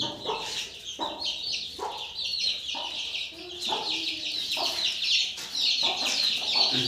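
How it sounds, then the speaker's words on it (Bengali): Many chickens cluck and squawk continuously inside a rooster farm shed, a dense overlapping chorus at moderate volume. "চারিদিকে শুধু মুরগি ঘরের মধ্যে ফাঁকা ঘরের মধ্যে শুধু মুরগি রয়েছে"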